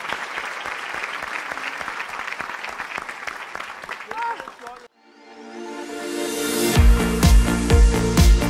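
At a live dansktop concert, the crowd gives warm applause: dense, steady clapping that dips briefly before music and more cheering swell in loudly.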